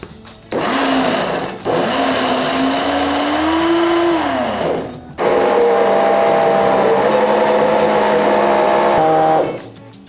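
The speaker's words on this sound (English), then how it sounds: "Now the blender is going to do what a blender does best." A kitchen blender whirs loudly, its motor pitch rising and shifting, with a brief pause before it starts again and runs for several more seconds.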